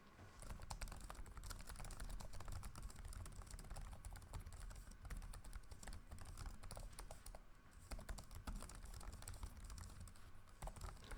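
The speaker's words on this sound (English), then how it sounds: "the feeling of typing on this keyboard" Steady, continuous typing on a Lenovo Ideapad 5 Pro 14-inch AMD laptop keyboard, a dense run of soft clicking keystrokes throughout, close and fairly quiet.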